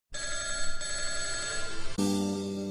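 A telephone bell rings loudly and steadily close by, a continuous trilling ring that abruptly shifts to a different, fuller ringing tone partway through.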